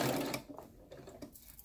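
A sewing machine stitches ribbon onto the edge of an ironing board cover, with a loud burst of rapid stitching at the start that gives way to quieter, intermittent mechanical clicks and short runs.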